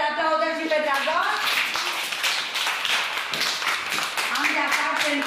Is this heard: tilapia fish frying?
no